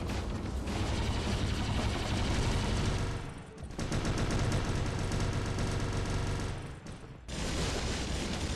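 Sustained rapid gunfire from mech weapons in the War Robots video game, dense and continuous with two brief lulls, loud and close throughout.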